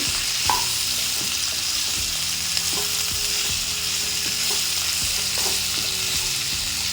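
Broad beans curry frying in a pan, a steady loud sizzle running throughout with repeated scrapes and stirs of the spatula at an even pace, close up and with no voices.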